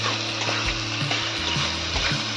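Ground spices fry in oil for a cabbage dish with katla fish head, giving a close, continuous sizzle broken by soft stirring scrapes.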